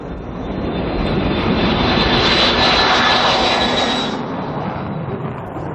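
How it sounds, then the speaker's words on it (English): A Tupolev Tu-22M swing-wing bomber's jet engines roar loud and continuous, swelling to a peak mid-way with a high whine on top, then easing slightly. "This is the Tupolev Tu-22M, the Soviet Union's first swing-wing bomber."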